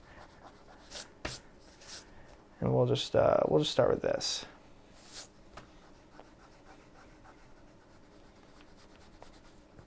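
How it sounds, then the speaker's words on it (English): An eraser rubs out pencil lines on a caricature drawing in a short burst of scrubbing strokes, close and fairly loud, while someone talks before and after. "I'm just going to erase some of these pencil lines"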